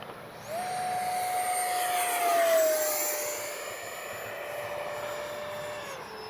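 An H-King Flycat V2 RC jet flies overhead with a steady turbine whine that swells as it passes close, its pitch sliding down as it moves away, loud and alone.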